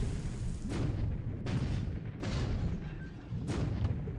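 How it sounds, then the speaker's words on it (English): Naval guns boom from the ship Castlemaine in the strategy game War in the Pacific, four heavy blasts roughly a second apart, each followed by a long rumbling roll, loud and close with no talking. "Okay, well, the Castlemaine is firing."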